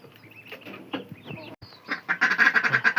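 Two ducks quack in a backyard poultry area, faint and scattered at first and then a louder run of rapid, close quacks toward the end, with no talking over them.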